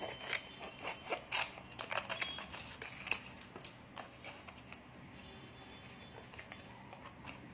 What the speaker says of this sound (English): while fussy cutting, you have to make sure that you don't keep any border line on it